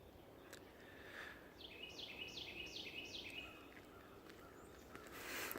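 Birds sing outdoors, faint and somewhat distant, with a repeated series of bright chirping phrases rising above a soft steady background hiss.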